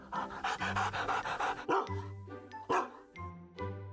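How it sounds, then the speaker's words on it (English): A rescue dog pants loudly and close, with rapid rhythmic breaths running throughout and a few soft vocal whines mixed in near the end. "He's our dog, Cheese."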